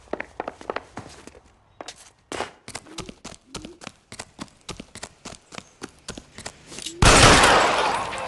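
Rapid gunfire in the L.A. Noire video game: a long series of sharp shots, irregular then evenly spaced, ending in a loud sustained noise burst.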